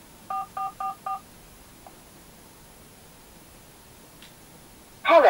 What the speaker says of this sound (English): Right, let's dial them up.